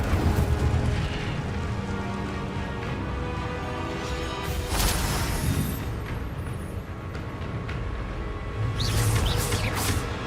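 Fiery spell blasts from Hogwarts Legacy combat whoosh and boom over a dense, roaring backdrop of battle noise, with a few sharp crackling bursts standing out. The bursts are loud and close, spaced a few seconds apart.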